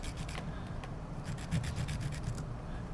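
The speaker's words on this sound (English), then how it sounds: "Take my brush and just slightly rub it through all this." A brush rubbing lightly through fly-tying material for a streamer pattern, making a steady soft scratchy rasp that runs close and continuous for the whole stretch, with no voice over it.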